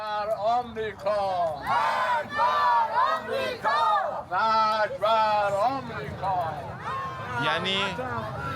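A large crowd chants a political slogan in unison in a Tehran street, voices rising and falling in loud repeated shouted phrases, dense and close throughout with no break.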